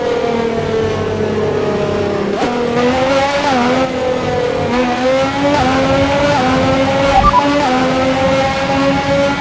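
An Alfa Romeo F1 car races at Monza in the video game F1 2021, its high, loud engine whine rising and dropping through quick gear shifts, continuous and close throughout.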